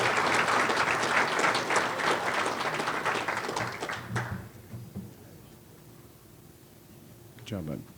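Crowd applause at the Wood Buffalo Sports Connection Awards, dense clapping for about four seconds that stops abruptly, followed by quiet room tone and a brief voice near the end.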